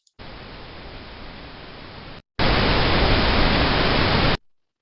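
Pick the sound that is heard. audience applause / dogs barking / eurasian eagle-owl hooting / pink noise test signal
pink noise test signal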